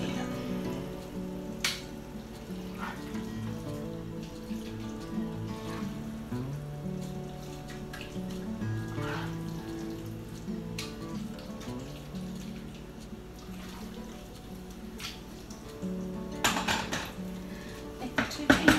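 A Mexican casserole mixture being ladled into baking pans, soft wet plops and scraping clinks of a ladle against a pot and pans, close and fairly quiet, in an unbroken run.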